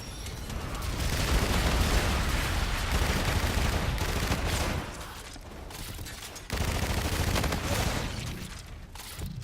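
Bombardment in Call of Duty: Infinite Warfare, with loud sustained bursts of gunfire and explosions rolling together, a brief lull midway, then the barrage resumes.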